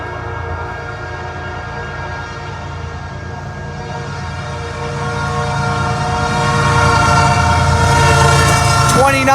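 A CN freight train with its locomotives passes at night on the Flint Subdivision, a steady rumble of engines and rolling cars that swells louder toward the end, with a horn sounding and wheels clattering alongside.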